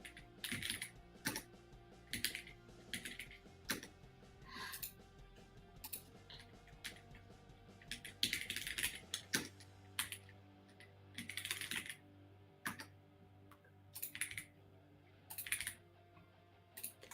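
Someone types on a computer keyboard, a steady run of close, crisp key clacks in irregular bursts with short pauses, over a faint background hum.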